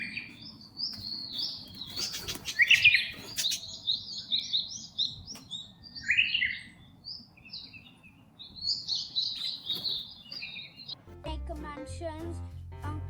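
Pet parrots belonging to an aunt chirp and tweet in rapid, overlapping bursts, fairly close and lively, over a low background rumble, with a brief burst of other noise and sounds near the end.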